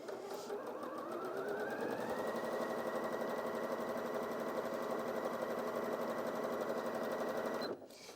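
Janome DKS100 sewing machine stitching fabric, a steady fast mechanical whirr with rapid needle clatter that rises slightly in pitch as it speeds up, running continuously before stopping abruptly near the end.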